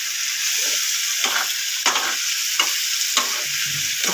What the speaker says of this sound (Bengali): যে রসুনটা, কাঁচা লঙ্কাটা ভাজা ভাজা হয়ে এসছে